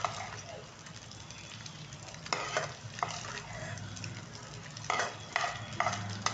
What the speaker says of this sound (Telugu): ఒక్క నిమిషం పాటు ఇట్లా కొంచెం ఫ్రై అయితే సరే.